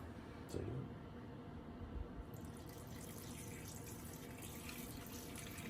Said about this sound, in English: And then to that I add 3 cups of water.